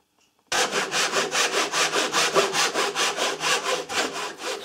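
A hand saw cuts wood in a combined sawing and shooting board, the rhythmic back-and-forth strokes close and steady after a brief silent start.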